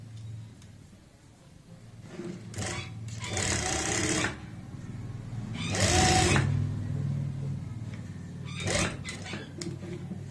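A sewing machine stitching a kameez runs in several bursts of rapid mechanical whirring, close and moderately loud, with quieter gaps between runs.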